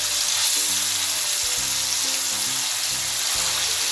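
Marinated mutton hitting hot mustard oil in a kadai, a loud, dense sizzle of frying that stays constant with a low background hum.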